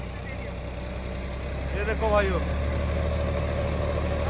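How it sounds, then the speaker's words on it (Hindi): A John Deere tractor drags an 8-foot rotavator through heavy soil, its engine a steady, loud, low drone that swells slightly midway. Someone talks over the engine noise. "ट्रैक्टर ने आरपीएम ड्रॉप करे तो थे, लेकिन दोबारा ऐसे पकड़ लिए।"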